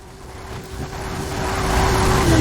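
A Ford Mustang S900, a pre-2010 model, drives in Forza Horizon 5, its engine note building steadily louder with a sustained tone over a broad road rumble.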